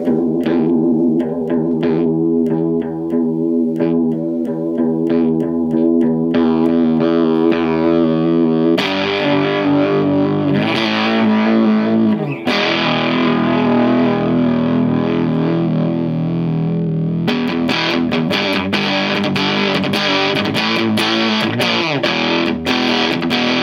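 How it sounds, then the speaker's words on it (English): A loud, heavily processed electronic tone from a circuit-bent Behringer UC100 effects unit's chorus effect warbles and shimmers with a swirling chorus, shifting pitch and texture in stepped jumps with no talking. "you can also use the chorus effect"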